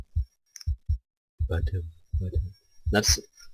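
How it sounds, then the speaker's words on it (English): Heartbeat sound effect in the horror-tinged visual novel Asagao Academy: soft, low, paired thumps repeating at a steady pace, heard close, with someone talking in between and over them. "That's the heartbeat."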